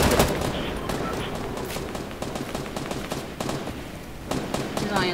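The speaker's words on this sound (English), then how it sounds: "Well, time to use this gun." Rapid bursts of gunfire from the video game Fortnite crackle throughout, with dense repeated shots that hold steady and grow louder at the end, and faint voices sit underneath.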